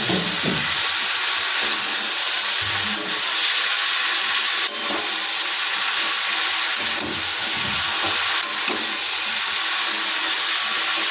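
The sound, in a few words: stirring frying winter vegetables with a spatula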